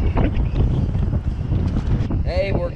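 Cold, strong wind buffets the microphone on a fishing boat, a loud, continuous rumbling roar with gusts, and a brief squeaky tone near the end.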